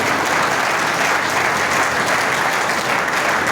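A crowd claps loudly and continuously, a dense wash of applause from a large audience.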